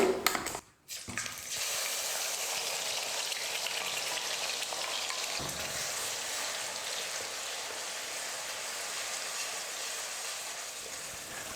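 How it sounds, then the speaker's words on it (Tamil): Ground onion paste drops into hot oil in a kadai with a brief loud burst and a short lull, then settles into a steady, even, hissing sizzle that runs on for many seconds without any talking. "எண்ணெய் நல்லா சூடேறினதுக்கப்புறமா அரைச்சி வச்சுருக்கிற வெங்காயத்தை சேர்த்துடுறேன்"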